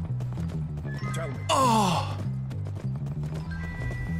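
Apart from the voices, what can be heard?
horse neighing and hooves in video game Skyrim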